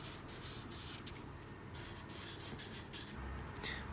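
Scratchy marker strokes rub across paper in short bursts, close and steady, with no talking.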